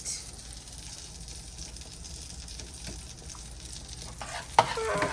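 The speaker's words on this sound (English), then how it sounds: "we're gonna leave it for the garlic to be infused into the butter" Diced garlic sizzles in melted butter in a pan, a steady soft frying hiss running throughout with light stirring scrapes and a brief louder clatter near the end.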